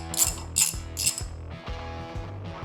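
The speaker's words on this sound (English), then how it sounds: "you're going to want to loosen that back nut here for the axle" A ratchet wrench with a 27 mm socket loosens the rear axle nut on a dirt bike, giving about five close, crisp bursts of rapid clicking in a steady back-and-forth rhythm, with no talking.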